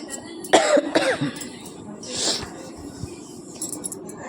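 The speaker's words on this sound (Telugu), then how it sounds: "దగ్గు వస్తుంది, జ్వరం వచ్చి తగ్గిందనమాట." Two sharp coughs close to the mic in quick succession, followed by a throat-clearing rasp, then quiet background.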